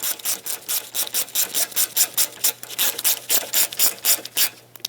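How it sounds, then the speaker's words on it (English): Bolts being tightened by hand on the aluminum radiator lines of a 2014-2021 Mazda 6, a steady run of short rhythmic ratcheting rasps, close and repeated about twenty times with no talking. "So once the bolts start in, tighten them up."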